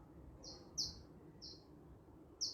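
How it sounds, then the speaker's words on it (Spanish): Short, bright bird chirps repeat every second or so over a low, steady background murmur, clear but not loud. "como los pájaros están cantando"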